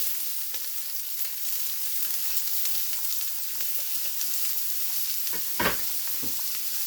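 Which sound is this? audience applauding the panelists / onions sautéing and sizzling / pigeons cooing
onions sautéing and sizzling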